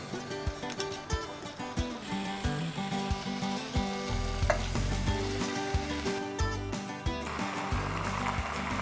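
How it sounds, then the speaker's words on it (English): Minced pork and pork belly frying in oil in a pot, a steady close sizzle with stirring scrapes and clatter running throughout. "So using the same pot, I'm going to fry the pork now."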